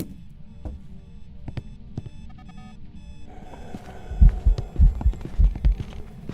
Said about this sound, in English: Alarm clock's going off.